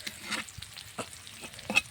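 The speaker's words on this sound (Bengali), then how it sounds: "ডিমটা সুন্দরভাবে ভাজা হয়ে গেছে" An egg omelette frying in a pan beside potato-and-wheat-flour parathas, soft sizzle with a few light scrapes and taps of a spatula, quiet and close.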